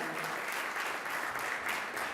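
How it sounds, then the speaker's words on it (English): Audience applause for Nobel laureate Mario Vargas Llosa at an award ceremony, a steady, even roar of many hands clapping, moderately distant, with no speech over it. "Let's give Mario Vargas Llosa a round of applause"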